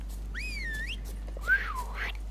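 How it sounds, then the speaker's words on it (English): A person tries to whistle, producing two wavering, breathy tones that rise and fall, heard close and alone over a low steady hum from a video game. "I can't whistle."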